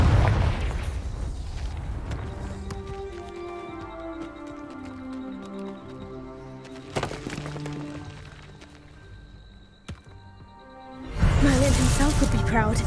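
A Confringo spell explosion in a video game: an initial booming blast, then descending tonal magical tones fading over several seconds, a sharp crack near seven seconds, and a second loud burst at the end.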